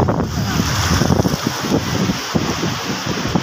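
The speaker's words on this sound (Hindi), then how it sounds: "बहुत ही प्यारी लहरें आ रही हैं इधर।" Ocean waves rolling onto Gadni beach, a steady loud wash of surf mixed with gusting wind buffeting the microphone, continuous throughout with no clear talk.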